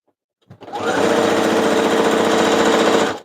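A sewing machine runs a quick strap stitch on lace, starting abruptly and holding a steady, loud, rapid mechanical chatter for about three seconds before stopping.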